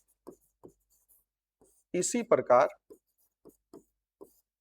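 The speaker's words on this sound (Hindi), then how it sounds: "तो मैं लिख रहा हूं इसी प्रकार" Short, scratchy handwriting strokes during a class 10 science lesson come in a sparse, irregular rhythm, close and clear, with a brief burst of voice in the middle.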